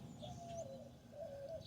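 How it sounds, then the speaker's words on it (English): Doves coo softly in two drawn-out phrases, faint and distant against a quiet town background in Pflugerville. "I can hear the doves in the background."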